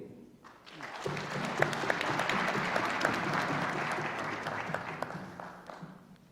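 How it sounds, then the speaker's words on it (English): A seated forum audience breaks into sustained applause after a minister's speech, dense continuous clapping rising quickly and holding steady at moderate loudness for several seconds before tapering, with no talk over it. "May we just stand and give an applause to thank a nice speech from the Minister."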